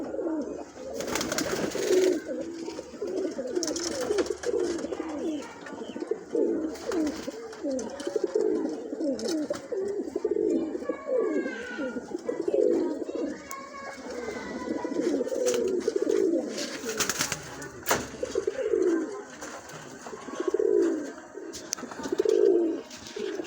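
Breeder pigeons in Islamabad, Pakistan coo in a continuous run of soft, rolling calls close by, with no talk, several birds overlapping throughout.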